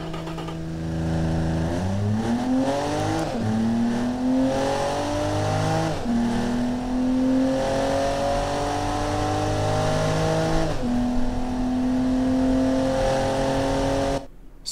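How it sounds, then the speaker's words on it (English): An inline-six car engine revs hard through several gear changes on a quarter-mile run, the pitch climbing smoothly before dropping at each shift, loud and continuous. "Sweet inline 6 sound"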